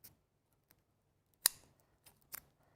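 Sharp scissor snips cutting a balloon sentiment die-cut piece into two parts: one strong crisp cut, then a few quicker snips, close and alone with no talking.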